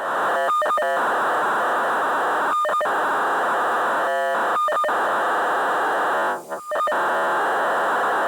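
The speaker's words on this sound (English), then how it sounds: "that sure sounds like a acoustic modem handshaking" Acoustic modem handshaking: a continuous hiss of static over a steady tone, broken by several short bursts of sharp beeps and rapid tonal chirps, loud and up close, with no voices.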